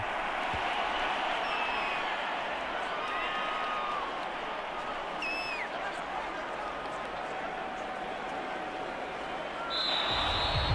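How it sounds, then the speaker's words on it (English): Home crowd applauding in a Detroit Lions versus Colts football video game, a steady broad roar of clapping and cheering with whistles, under faint commentary and swelling near the end. "And the home crowd applauding."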